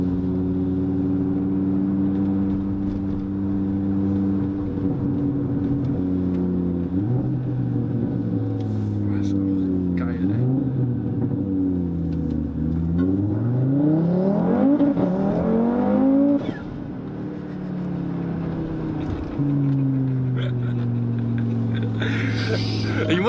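A 670 hp Audi RS3 sedan accelerates with wheelspin, its engine note sweeping up and down loudly and steadily through the gears, with people talking over it inside the car.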